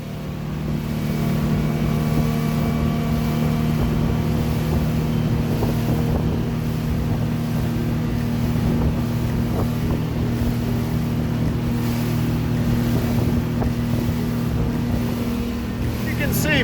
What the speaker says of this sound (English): how nice and quiet the boat is as we're hitting some of these wakes